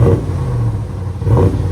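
A 2023 RAM 1500 with the 5.7L HEMI E-Torque V8 and Magnaflow cat-back exhaust revs loud and close, with two quick throttle blips and a deep burbling idle between them.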